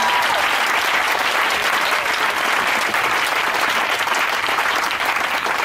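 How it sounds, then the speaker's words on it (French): A church congregation applauding in acclaim of the Lord, a dense, loud, sustained wash of clapping from many hands that holds steady throughout with no break. "Parce qu'on va acclamer le Seigneur."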